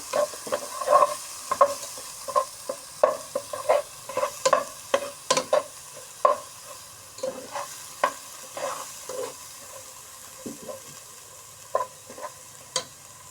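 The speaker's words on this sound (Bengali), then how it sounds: "লাল মরিচের গুঁড়া নাড়াচাড়া করে নিচ্ছি" Red chili powder is stirred in hot oil in a pan, with repeated short scraping strokes of a spatula over a soft sizzle, close and fairly loud, the strokes thinning out toward the end, with no voices.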